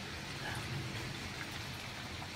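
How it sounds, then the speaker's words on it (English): Heavy rain pours down on a greenhouse with tomatoes inside, heard from within as a steady, dense patter and hiss with no break and no voices. "So we've been rained off for a little while. It's pouring down out there."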